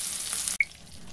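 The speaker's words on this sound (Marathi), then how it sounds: "बघा, अशा प्रकारे आपण सुरमई तळण्यासाठी टाकलेली आहे" Surmai (kingfish) pieces hiss in a hot frying pan, a bright steady sizzle that cuts off abruptly partway through and gives way to a quieter, softer crackle.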